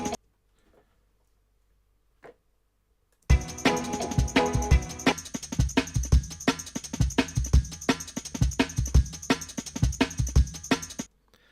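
Sampled drum break, first half, looped as a drum and bass beat: punchy kicks, snares and steady bright hi-hats hitting in a busy syncopated pattern, loud and close, starting after a few seconds of near silence.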